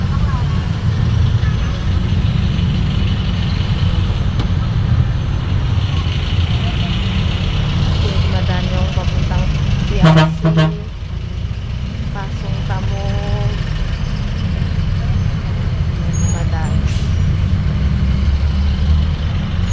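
Heavy traffic in Pasay with buses and trucks idling, including a Jac Liner bus, forms a steady, loud engine rumble. Around the middle comes a sharp air brake hiss and a short horn-like burst, and someone talks over the scene.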